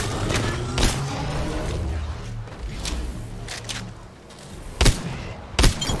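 Grenades thrown in the video game Apex Legends go off in a dense barrage of booms and gunfire-like bursts over constant loud background noise, with two sharp, heavy blasts standing out near the end.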